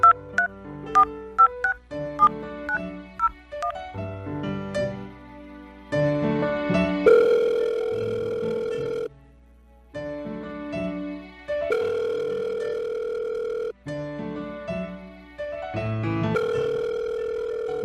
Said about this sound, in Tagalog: Eto na, tatawagan ko na.